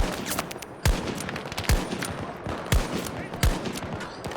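Gunfire in the video game Battlefield 2042: four sharp, loud shots spaced about a second apart, each with a low thump, over steady battlefield ambience.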